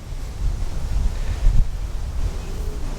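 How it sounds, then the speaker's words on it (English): Wind gusts roar steadily through a June garden of cornflowers, dahlias and a Japanese maple, a low rumbling buffet on the microphone that swells briefly midway, with no voices. "The wind is beating it up today."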